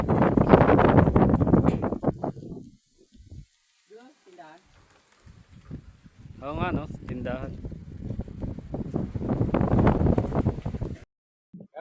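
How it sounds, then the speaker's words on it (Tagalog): Strong wind on a mountain overlooking Laguna Bay buffets the microphone in loud roaring gusts, mixed with people talking nearby. "Grabe lakas ang hangin."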